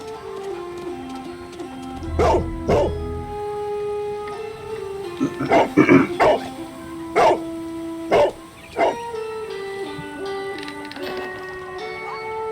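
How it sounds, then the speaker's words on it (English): A dog barks in the Sherlock Holmes: The Devil's Daughter video game, several separate sharp barks spread across the stretch over a steady hum of game sound. "obviously the dog has found something here."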